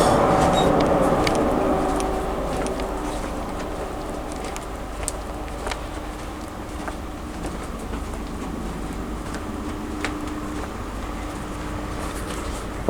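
Class 43 power cars 43029 and 43171 haul a train toward Plymouth in Cornwall, a steady loud rumble of engines and wheels on rail with a squealing tone early on and occasional clunks.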